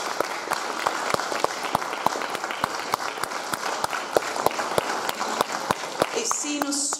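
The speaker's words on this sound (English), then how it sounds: "Let's give them a round of applause, please" Audience applause at a Nigerian Community Association event in a high school, a steady stream of close, crisp individual claps over a softer crowd clapping, with a brief voice entering near the end.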